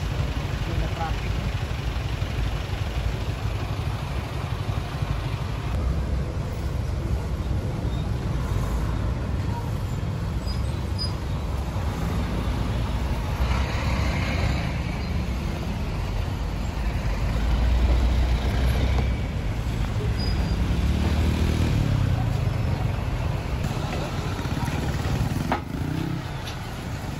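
Road traffic passes a flyover construction site at MA-A, where trucks and buses rumble and idle in a continuous roar. The engine noise swells now and then, and a person talks throughout.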